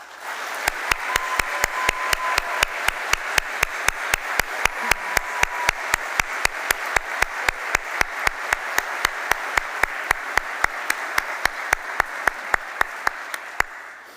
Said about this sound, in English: please join me in showing the class of 2026 our support through a round of applause